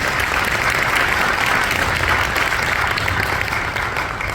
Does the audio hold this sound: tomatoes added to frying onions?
no